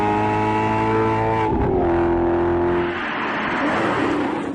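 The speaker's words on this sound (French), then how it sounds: "En mode sport et à haut régime, la boîte de vitesse passe les rapports en 100 millisecondes" A Maserati GranTurismo S in sport mode screams at high revs, then its note drops sharply with a rapid gear shift before pulling on, loud and close.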